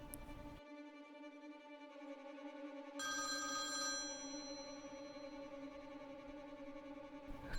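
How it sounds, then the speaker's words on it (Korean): A telephone rings with a bright electronic tone, sustained and tinny, cutting out briefly then resuming at a louder, richer level. "거실에 전화벨 소리가 울려 퍼지고"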